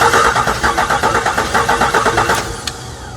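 A car engine cranked over by the starter, a fast rhythmic churning of about a dozen loud close pulses that stops abruptly, followed by a short click and fading hum.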